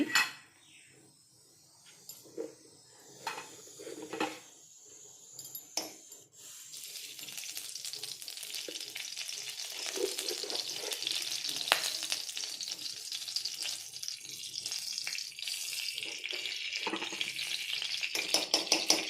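Ghee heating and frying in a kadai, a few clinks of a spoon against the pan first, then a steady close sizzle building and holding to the end, no talking.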